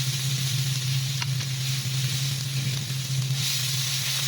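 Onion and garlic sizzle in hot oil, a steady bright hiss with a constant low hum beneath it and no talking.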